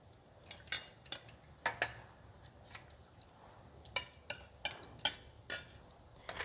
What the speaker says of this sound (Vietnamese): Mình khuấy đều lên.